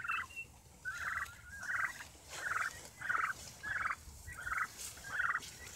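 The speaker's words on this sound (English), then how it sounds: "The turkeys." Turkeys on a goat homestead gobble repeatedly in a steady series of about eight bursts, fairly faint and somewhat distant, with no talking.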